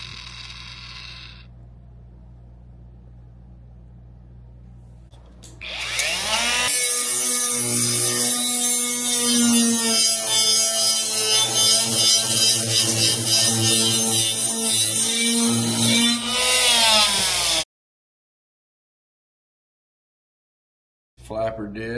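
An angle grinder with a flap disc sands a piece of wood, a loud steady whine with a rasping scrape running for about eleven seconds before it cuts off abruptly.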